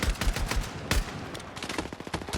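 Gunfire in a first-person shooter video game: rapid, sharp bursts of shots in quick succession, loud and close, with no talking over them.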